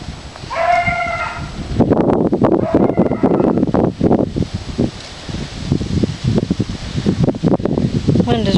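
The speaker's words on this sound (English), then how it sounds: "Wind is really picking up." Wind gusts outdoors, rushing and buffeting close against the microphone in a steady loud roar, with a brief high tonal call near the start.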